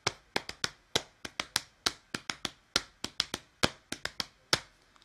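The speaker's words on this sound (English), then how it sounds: "That would be a 2 against 3 polyrhythm" A 2 against 3 polyrhythm tapped out as crisp, sharp percussive hits, two interlocking pulses forming an uneven repeating pattern, close and clear over silence.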